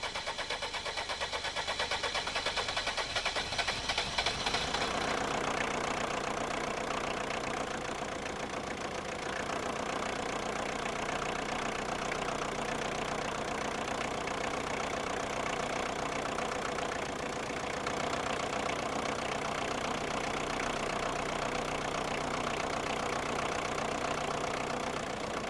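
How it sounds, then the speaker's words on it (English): A VM 2500 turbodiesel engine idles with a steady, continuous rumble and a faint diesel knock, heard up close for the whole stretch, with a slight change in tone after the first few seconds. "start the engine and bleed each injector in turn"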